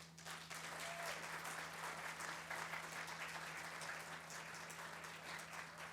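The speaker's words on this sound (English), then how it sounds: "Let's give Cynthia L. Blandford another round of applause" A room of attendees at an International Women's Forum gathering gives a sustained round of applause, dense and even, with a faint steady electrical hum beneath the clapping.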